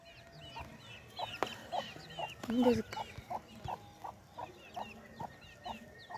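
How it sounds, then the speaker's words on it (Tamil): Chickens cluck in a steady, repeated rhythm outdoors on a hot day, with a louder squawk partway through and a person speaking briefly over them. "கோழியை காணும் ஃப்ரெண்ட்ஸ்"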